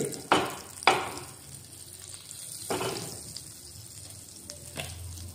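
Butter hits a hot pan with a sharp sizzle, followed by several more bursts of frying hiss and a softer, steady crackle between them, close and without any talking.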